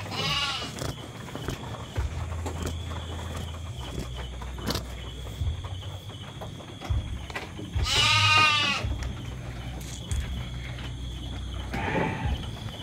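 Sheep bleat in a few scattered, wavering cries, one near the start, a longer one midway and another near the end, over a steady low hum.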